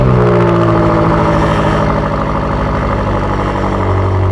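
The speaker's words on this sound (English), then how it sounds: "This button is especially handy while doing cold starts, because in the morning the M8 is actually quite loud" A BMW M8 engine runs loud on a cold start, a steady, dense rumble with a deep idle throb that holds at high level throughout without letup.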